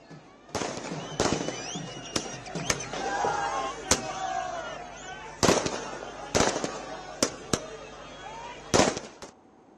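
Fans setting off firecrackers to celebrate India's win over Pakistan: a string of sharp, loud bangs at irregular intervals, some in quick pairs, over a crowd's continuous murmur and shouting.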